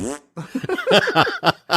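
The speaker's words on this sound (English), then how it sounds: "you want to see the car fart?" Tesla car fart sound effect played inside the car: a rising, buzzy fart blast followed by a rapid series of shorter sputtering, bubbly puffs, loud and close.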